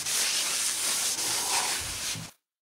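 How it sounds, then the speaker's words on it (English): A close, steady spray of brake cleaner hisses onto a new brake rotor on a 2014 Kia Soul or Forte for about two seconds, then cuts off abruptly. "here's the brake clean."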